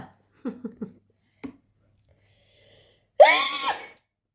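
One loud, close sneeze bursts out near the end, after a few faint clicks and small mouth noises in near silence.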